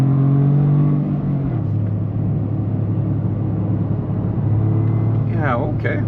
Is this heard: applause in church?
no